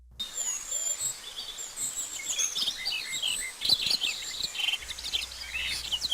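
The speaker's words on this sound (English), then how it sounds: "A bird that chirps or sings too loud." Birds chirp and tweet in quick, bright bursts over a soft outdoor background, with several calls overlapping.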